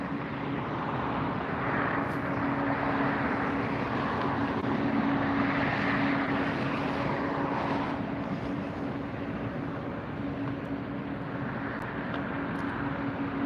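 A British Airways airliner arrives at Los Angeles International Airport, its engines a steady, broad roar with a low hum that swells and eases slightly, heard from a moderate distance with no talk.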